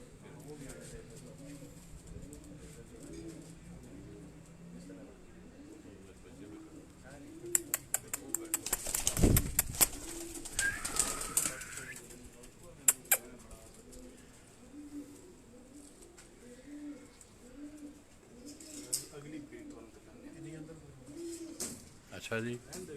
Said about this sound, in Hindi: ये उनकी टोपी वाली ब्रीड के ये जो कबूतर हैं